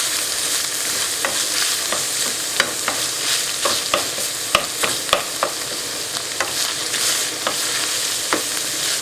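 Spaghetti tossed with tongs in a pot, with dried herbs and seasoning, gives a steady sizzling bed broken by sharp, irregular scrapes and clicks of the tongs, close up and alone with no talk.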